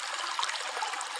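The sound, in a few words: running water of an underground stream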